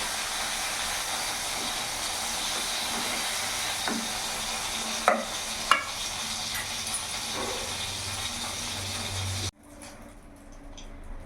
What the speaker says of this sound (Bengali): আমি অল্প একটু সরষের তেল দিয়ে দিলাম। গ্যাসের ফ্লেমটা একটু বাড়িয়ে দিলাম।